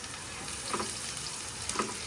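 Garlic and onion sauté in a hot pan with a steady, fairly quiet sizzle and faint frying crackle throughout, a couple of brief brighter pops near the middle and end.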